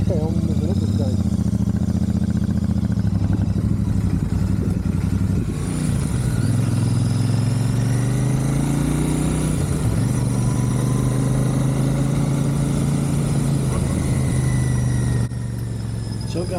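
A Royal Enfield Super Meteor 650 motorcycle engine hums steadily and close throughout, its low drone rising and falling with the throttle while someone talks over it for most of the stretch.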